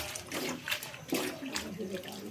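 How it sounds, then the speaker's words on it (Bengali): Radish greens being washed under running water, a continuous close splashing rush with uneven surges, with someone talking briefly over it. "এখন আমি শাকগুলো ভালো করে ধুয়ে নেব।"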